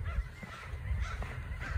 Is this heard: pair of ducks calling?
yes